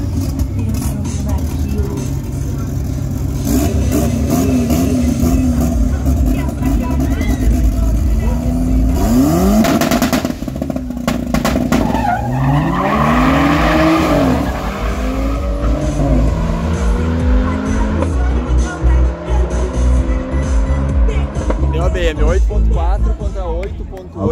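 Drag race cars at a 201-metre eighth-mile strip, a national car against a Porsche, roar off the line and accelerate hard with rising engine revs and tire squeal, loud and close, while a commentator talks over them throughout.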